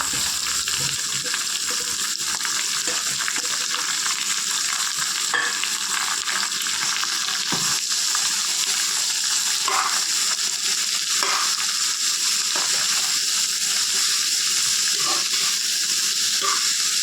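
Dried prawns fry and sizzle steadily in a pan with green chillies and curry leaves, with a continuous loud hiss and occasional scraping stirs from a spoon throughout, and no voices.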